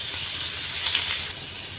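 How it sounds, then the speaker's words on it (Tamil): Onion, tomato, garlic and ginger sautéing together in a pan for egg gravy, giving a steady close hiss of frying that eases slightly toward the end; no talking. "வெங்காயம் தக்காளி பூண்டு இஞ்சி எல்லாத்தையுமே ஒண்ணா போட்டு வதக்கிக்கலாம்"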